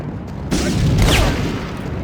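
An artillery shell explodes in the Medal of Honor remake during a World War II level on a snowy mountain pass: a single loud, sudden blast followed by a rumbling, crackling tail.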